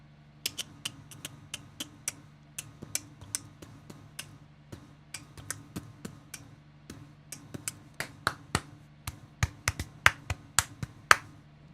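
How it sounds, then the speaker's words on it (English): Hand claps very close to a microphone: an irregular series of sharp, loud claps spread over about twelve seconds, sparse at first and growing quicker and denser toward the end, over a faint steady hum. "That clapping came out really loud on the microphone."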